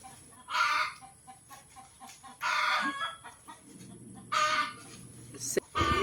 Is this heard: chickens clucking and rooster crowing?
yes